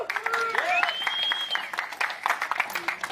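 Debate audience applauding together, a dense wash of clapping under a talking voice that carries on across the whole stretch.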